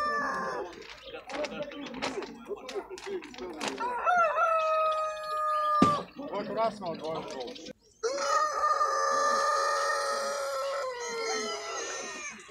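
Chickens cluck and a rooster crows close by at a market fair in Kropotkin, Russia, with people talking over parts of it and a long crow near the end.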